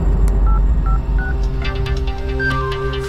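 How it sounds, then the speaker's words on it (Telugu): A mobile phone ringtone plays in a tense film scene, a clear electronic melody of short tonal notes over a low background score, with no talk during it. "nice ring tone"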